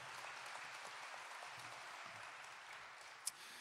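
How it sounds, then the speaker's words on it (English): Faint, distant audience applause at an anniversary concert, a soft, steady patter of many hands with one sharp click near the end. "So give him a big round of applause again."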